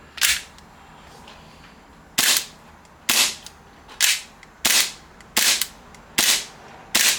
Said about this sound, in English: Let's just dry fire.